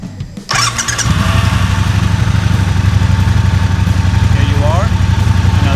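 A Triumph Bobber motorcycle engine cranks and fires up after a short pause, then settles into a loud, steady idle with a rhythmic chug.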